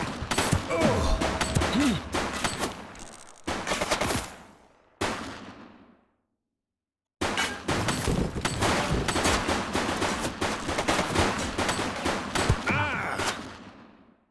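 Gunfire in The Precinct, a police game, comes in loud, rapid volleys of close shots with brief gaps and one long silence, then resumes in sharp repeated bursts.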